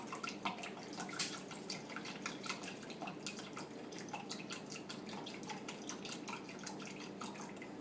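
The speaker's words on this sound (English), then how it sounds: "This is a special splash kind of soy sauce." A special splash-style soy sauce pours into a bowl as a soft, continuous stream of small drips and trickles, quiet and close, steady for several seconds with no voices.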